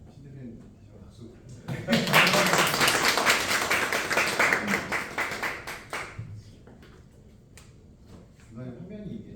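Burst of audience clapping at a company visit event for a CEO club, rising sharply and holding for about four seconds before fading back to quieter room sound with some talk.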